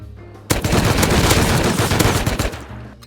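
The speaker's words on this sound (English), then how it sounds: "M4 shotgun" An M4 shotgun fires in a survival video game set on the ocean: a loud, dense volley of rapid blasts starts abruptly after a short quiet lead-in, rattles on for about two seconds, then cuts off into quiet.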